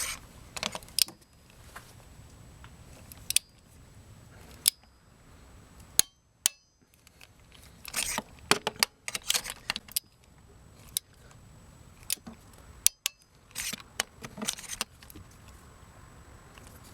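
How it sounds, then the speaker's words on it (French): A torque wrench is used to tighten the spark plugs of a Renault Twingo 1.2 16V to 20 Nm, giving sparse sharp metallic clicks and clanks scattered among quieter handling noises in a faint, hushed space. "Je vais terminer donc le serrage à la clé dynanométrique en appliquant"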